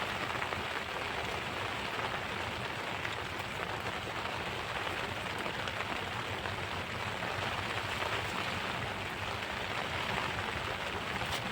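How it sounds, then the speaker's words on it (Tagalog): Heavy tropical downpour drenching an outdoor fish pond where blue tilapia are raised, a steady dense hiss of rain on the surface filling the whole stretch with no break and no voices. "Abe, nalakas ng ulan, oh."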